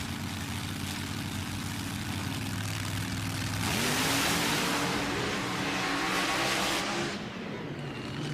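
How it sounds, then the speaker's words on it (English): A Ford-powered dragster, a 1927 Ford with a 575 Ford engine, launches down a drag strip with a loud, sustained engine roar that rises sharply in pitch mid-run, heard from a distance over crowd and track noise. "Whoa, Finley comes out there like a rocket."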